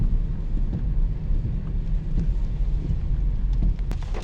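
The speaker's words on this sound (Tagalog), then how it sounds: "nabulaga na naman tayo ng biglang buhos ng ulan" Steady heavy rain pouring down in a dense hiss, with low rumbling and wind buffeting the microphone throughout.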